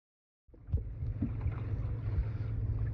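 A small boat moving across open water near Beaufort during a coastal expedition race, starting abruptly from silence into a steady rushing wash with low wind buffeting and occasional knocks, close and continuous.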